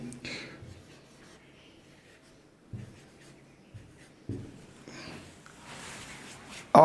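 Chalk or marker writing numbers on a board during a maths class, soft scratchy strokes in short bursts, fairly quiet, with a few faint breaths and rustles between them.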